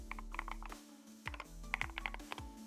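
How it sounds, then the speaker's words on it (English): Keys clatter on a computer keyboard while a localhost address is entered during a local AI software setup on Ubuntu 22, coming in quick close bursts of clicks with short pauses between them. "if we type in right now, localhost"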